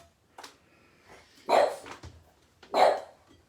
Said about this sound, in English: my dog is going mad with the postman